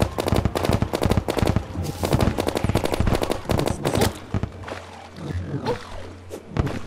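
Rapid bursts from the Clockwork Assault Rifle in Terraria, loud and close, in repeated three-shot volleys with short gaps between them, then thinning out into scattered softer sounds.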